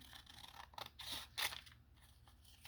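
Scissors snip through paper while making altered paper clips for a junk journal, a few close, crisp cuts with short pauses between them, alone with no talking.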